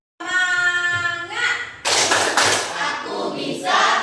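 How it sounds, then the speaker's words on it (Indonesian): A school class claps and chants the rhythmic 'tepuk semangat' cheer, a sung voice followed by bursts of quick group claps and thumps, loud and close, with children's voices mixed in. "kita akan tepuk semangat agar kalian lebih bersemangat lagi dalam belajarnya"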